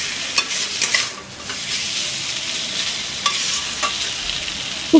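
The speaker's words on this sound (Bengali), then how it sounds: "এর মধ্যে দিয়ে দেব ধনে পাতা। ধনে পাতাটা আগে আমি কুচিয়ে রেখেছিলাম। খুব ভালো করে নেড়ে দেব।" Chopped coriander leaves stirred into a fried spice masala for a vegetarian potato and pointed gourd curry: a steady scraping, sizzling texture with scattered sharp spoon-on-pan clacks, close and fairly loud, with no voices.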